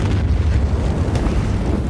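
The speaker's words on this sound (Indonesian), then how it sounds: "tawanan tersebut tewas seketika akibat terkena ledakan ranjau" A landmine blast from the war film Land of Mine, heard as a loud, sustained low rumble with a dense, roaring body that fills the whole short stretch, with no voices.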